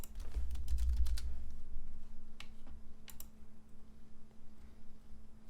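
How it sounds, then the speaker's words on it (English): Quick bursts of clicking on a computer keyboard, typed close by at a quiet level over a low steady hum, with a denser flurry at the start and scattered keystrokes after. "Now let's just type in alert as well to get some other ideas."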